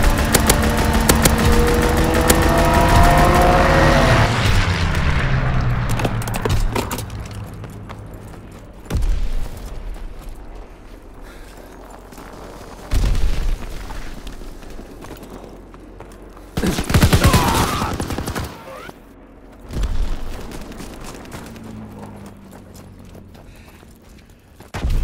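An aircraft strafing run in Call of Duty WW2 on the Carentan winter map: a roaring pass with heavy machine-gun fire, then several separate loud booms and bursts of gunfire separated by quieter gaps, with no voices.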